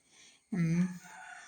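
A single close rooster crow or loud chicken call rises sharply after a brief quiet, then trails into softer clucking.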